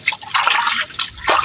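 Water poured into a new, unglazed clay pot in a Pakistani village, a splashing, gurgling fill with short bursts and brief pauses, close and fairly loud with no talk.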